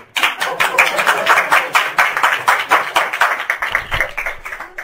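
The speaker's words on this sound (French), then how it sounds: "Je voudrais m'applaudir, c'est-à-dire t'applaudir." Applause at a French-language satsang gathering: a dense run of brisk hand claps from a small group, close and loud, steady for several seconds before thinning slightly at the end, with a faint voice underneath.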